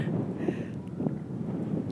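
Strong wind buffets the microphone at Lancieux beach, a steady low roar with gusty thumps throughout and no voices.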